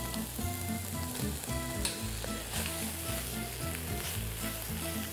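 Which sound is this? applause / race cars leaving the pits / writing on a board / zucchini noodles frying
zucchini noodles frying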